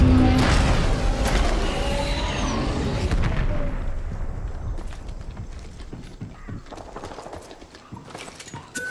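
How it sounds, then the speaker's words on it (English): Massive shotgun blasts in a video game hunting scene, a few loud booming shots over a dense, busy mix of game sound with clip-clop, horse-like noises and mechanical clatter. "Massive shotgun here."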